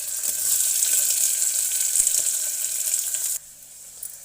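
Onions fry in tempering oil for moong dal khichdi, a dense steady sizzle that holds close and loud, then cuts off abruptly near the end.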